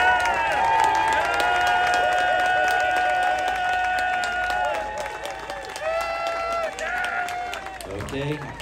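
A crowd at the Half Moon Bay giant pumpkin contest claps and cheers loudly for an entry being judged by applause meter. Voices whoop over the continuous applause, which dips slightly near the end.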